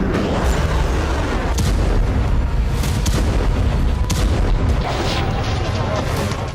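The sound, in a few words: explosions from Israeli air strike in Damascus, Syria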